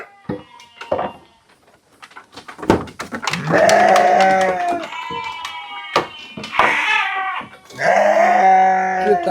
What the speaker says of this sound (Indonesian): kita ambil domba.